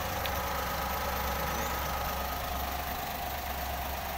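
A Daihatsu Xenia Li car engine idles with a steady low rumble and a constant hiss, continuous and unchanging, with no voices.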